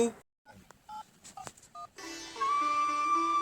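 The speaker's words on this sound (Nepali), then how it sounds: "म तिमीलाई फोन गर्छु" A telephone keypad being dialed for a call gives a quick series of short beeps, then a steady ringback tone.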